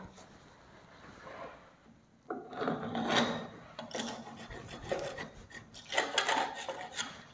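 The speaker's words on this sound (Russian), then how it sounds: "Скоблим." Old wallpaper being scraped off a wall indoors: rough rasping strokes in irregular bursts, growing louder after a quieter start and continuing for several seconds at close range.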